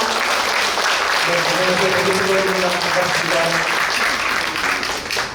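A crowd at an outdoor memorial cultural festival applauds steadily to welcome a band, a continuous wash of clapping with a voice speaking briefly over it before the clapping fades slightly at the end.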